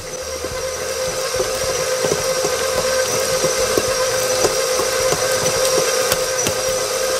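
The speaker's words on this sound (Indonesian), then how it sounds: "butternya dikocok ya" An electric mixer beats cold butter for a lapis legit cake batter, giving a steady, close whirring drone with faint metallic hiss that runs unbroken throughout, with no talking.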